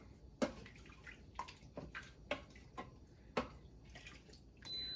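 Spoon stirring vegetable stock, water and rice inside an Instant Pot, giving a series of faint clinks and knocks against the metal pot with soft sloshing between, quiet and irregular, no talking.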